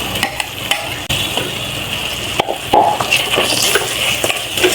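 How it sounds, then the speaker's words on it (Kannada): Ground tomato, coriander and mint masala going into spices frying in a pan for egg biryani, loud close sizzling with scraping stirring strokes and a short break early on, no voices. "ನಾನು ಇವಾಗ ಇದಕ್ಕೆ ರುಬ್ಬಿಟ್ಕೊಂಡಿರೋ ಟೊಮ್ಯಾಟೊ, ಕೊತ್ತಂಬರಿ ಪುದೀನ ಮಸಾಲ ಹಾಕೊಳ್ತಾ ಇದ್ದೀನಿ"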